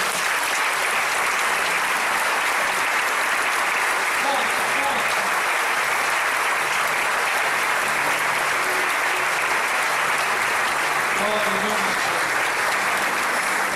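A church congregation at a communion service claps long and vigorously to glorify God, a loud, unbroken roar of many hands lasting well over ten seconds, with faint voices and cheers buried underneath.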